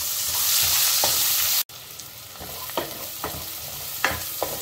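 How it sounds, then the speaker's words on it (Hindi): Finely chopped onions hit hot oil with asafoetida in a pan, giving a steady sizzle and a sharp dropout, then continued frying hiss with several scraping stirs near and moderately loud, with no talking. "अब इसमें चॉप करा हुआ अनियन डाल देंगे"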